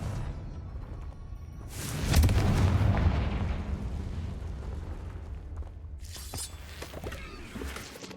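Confringo spell explosions in a video game: a heavy booming blast swells and fades, then a second burst crackles in near the end, with no talk.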